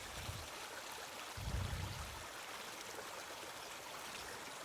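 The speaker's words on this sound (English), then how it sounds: "Now as the water overflows into our reservoir, that's the water we're going to pump back to the tank." Water from a Royal Manufacturing HighBanker recirculator flows steadily, overflowing into a reservoir to be pumped back to the tank, with a faint continuous trickle and a brief louder gush near the start.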